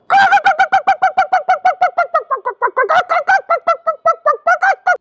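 A voice imitates a hen's frantic alarm cackle: a rapid, loud series of sharp squawks running steadily for several seconds with no pauses.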